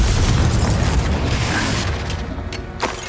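Confringo fire spell blast in the Hogwarts Legacy video game: a loud, dense boom that starts at full force, rumbles on for about two seconds, then thins into a fading roar.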